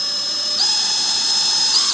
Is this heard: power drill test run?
yes